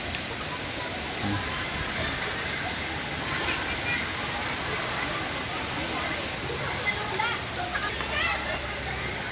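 River water rushes steadily at Hinulugang Taktak, a dense continuous roar like a waterfall, with a crowd's murmur and a voice mixed into the broad wash of sound.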